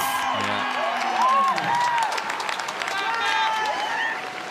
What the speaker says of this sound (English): Listen to the crowd, folks. They will go off.